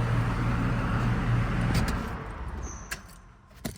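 A Dodge Ram 2500 with a 5.9L Cummins diesel and factory exhaust is shut off: its loud, steady low idle rumble runs for about two seconds, then fades out, leaving a quieter background with a couple of faint clicks.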